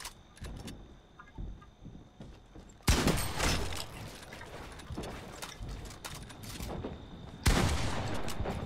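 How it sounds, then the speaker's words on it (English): SMG fire in the video game Fortnite, with a rapid rattling burst at close range at the start, then two louder sustained volleys a few seconds apart over quieter game ambience. "This SMG sounds amazing."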